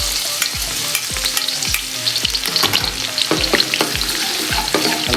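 Ginger garlic paste sautés in a pan, sizzling and crackling steadily while a utensil scrapes and stirs in repeated strokes, close and fairly loud with no talking.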